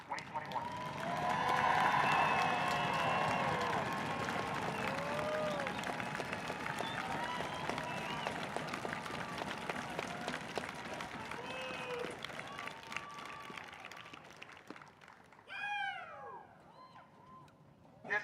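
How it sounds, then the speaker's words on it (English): A crowd applauds the senior class of a marching band at its season finale, broad sustained clapping and cheering that swells early, then thins out with scattered whistles and shouts near the end. "please give a huge round of applause to the members of the senior class of 2021"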